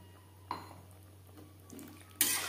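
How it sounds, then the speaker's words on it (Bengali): Spice-rinsing water poured into a cooking pan of beans, a soft clink followed near the end by a sudden rushing splash, with a low steady hum underneath. "দিয়ে দেব জল। এখানে আমি মশলা ধোয়া জল ব্যবহার করলাম"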